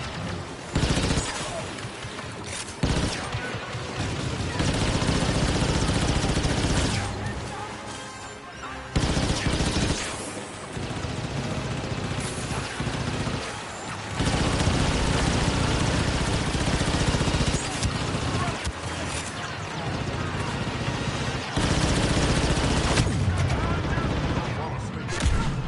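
Near-continuous blasting gunfire in Star Wars Battlefront II co-op, with rapid bursts and heavy volleys broken by a few short pauses, loud and dense, with occasional voices mixed in.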